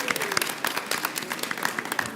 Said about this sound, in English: let's give Bella a round of applause